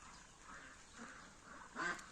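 Faint ducks quack a few times in the distance, soft nasal calls over a low background hiss.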